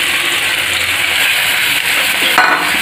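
Eggs with spring onion sizzle steadily in a hot pan, a continuous broad frying hiss with faint stirring, close and loud throughout with no talk.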